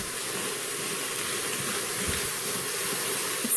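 Onions and garlic sauté in an Instant Pot with a steady, even hiss and sizzle that stays at a constant level throughout, with no talking.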